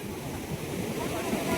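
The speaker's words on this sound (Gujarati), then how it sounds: "જોવો તમે આ કેટલા મોજા ઉછળે છે." Sea waves surge at a beach on the Gujarat coast as a continuous, fairly loud broadband wash of surf and wind with no clear break.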